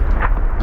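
A grenade blast in PUBG gives a short, heavy boom with a deep rumbling tail, loud and close.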